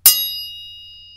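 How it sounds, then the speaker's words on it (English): A small bell gives one bright, close ding with a sharp strike and a long ringing decay of clear high tones, alone in an otherwise quiet room lined with egg cartons. "We even have our own little bell."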